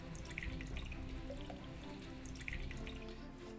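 Water runs steadily into a cooking pot for stock, a faint continuous splashing and trickling with occasional drips, no talking over it.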